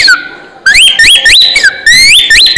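A shrill bamboo bird-call whistle gives repeated rising chirps in short bursts, like a bird call, loud and close with no talk.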